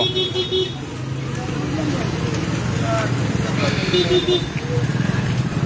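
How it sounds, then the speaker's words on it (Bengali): Motorcycle engines rumble steadily as bikes ride through floodwater with wheels half submerged, amid traffic noise and a brief horn toot, while people talk over the sound throughout. "বাইক নিয়ে আসতেছেন মানুষ বাইকে অর্ধেক চাকা পানের নিচে"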